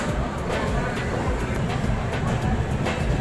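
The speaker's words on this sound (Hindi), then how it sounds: "हमारी ट्रेन निकल चुकी है ऑन टाइम यहाँ से खगड़िया जंक्शन रेलवे स्टेशन से" The Champaran Humsafar Express rumbles along as heard from inside a sleeper coach, a steady low roar with a faint rhythmic clatter of wheels on rail joints, continuous and close.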